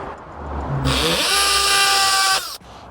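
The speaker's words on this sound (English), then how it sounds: "I'm gonna drill 2 pilot holes right in the center of this area" A power drill revs up with a rising whine, runs at full speed for about two seconds close by drilling a pilot hole for a fluted wall panel, then stops abruptly.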